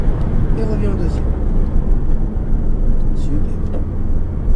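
A Porsche Cayman S accelerating hard on the Chenevières circuit, a loud, close engine roar heard from inside the car, steady and droning with a driving instructor talking over it.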